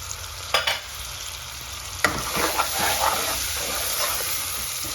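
Tomato and onion pieces drop into a hot pan for chicken biryani and fry, with a steady sizzle, a few sharp bumps and stirring scrapes, and no talking.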